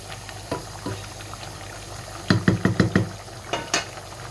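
Beef braising for a Sylheti satkora curry bubbles and sputters in the pot, with a quick run of sharp knocks and scrapes from stirring in the middle, fairly close and moderately loud.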